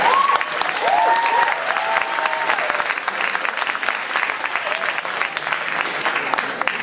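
Audience applause at a university lecture at Northeastern, a dense, steady roar of clapping heard up close from start to finish with a few faint voices rising in the crowd.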